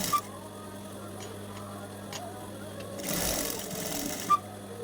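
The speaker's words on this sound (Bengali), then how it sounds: "তারপর এভাবে দৌড়ে সেলাইটা দিয়ে দিচ্ছি" A sewing machine runs stitching fabric pieces for a child's Afghani pyjama, a close steady mechanical whir with a brief louder burst partway through and small clicks, and no talking.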